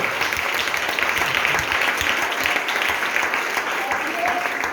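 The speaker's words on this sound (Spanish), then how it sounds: "Dale más fuerte ese aplauso" Church congregation applauding loudly during a worship service, a dense, steady wash of clapping that runs throughout, with voices mixed in beneath it.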